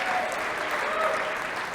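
Comedy club audience applauding a live stand-up set, a dense, steady burst of clapping heard close and loud throughout the short stretch.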